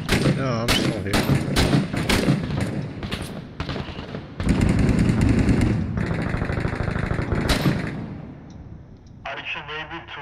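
Rapid bursts of machine-gun fire rattle through a video game firefight, loud and near, with dense automatic volleys and sharp single shots overlapping almost continuously while players talk over the combat.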